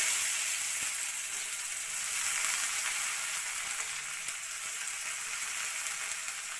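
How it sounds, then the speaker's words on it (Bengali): Chopped onion sizzles in leftover fish oil in a wok while cooking Bengali bhetki fish: a loud, steady, crackling fry that runs unbroken for the whole stretch, with no voices. "এবার পেঁয়াজ কুচি দিয়ে দিলাম"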